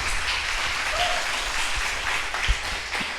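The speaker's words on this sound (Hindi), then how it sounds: "एक बार ज़ोर से ताली बजाकर हालेलुया बोलकर," A church congregation at a Sunday service claps loudly and steadily in a continuous mass of hand claps, with occasional louder single claps.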